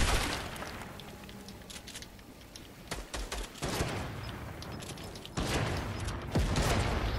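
Rapid gunfire bursts from a video game shooter, loud and close, with sharp volleys and shattering impacts repeating in clusters across the stretch.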